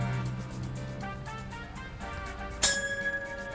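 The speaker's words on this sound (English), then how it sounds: "The bell, you have to press it first." A front-desk service bell struck once, a bright ding that rings on after a stretch of faint background sound.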